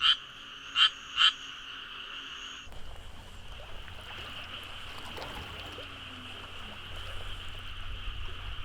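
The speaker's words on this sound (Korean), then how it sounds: "그것은 구애에 나선 청개구리들의 울음소리다" Male tree frogs calling in a courtship chorus: a few loud, close croaks ring out first, then a dense, steady wash of many calling frogs continues throughout.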